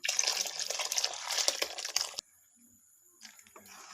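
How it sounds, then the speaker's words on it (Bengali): Milk pours into a pan of palm fruit kheer, producing a continuous splashing gurgle for about two seconds before cutting off, followed by quiet and a few faint liquid sounds. "এবার আমি দুধ ঢেলে দিচ্ছি।"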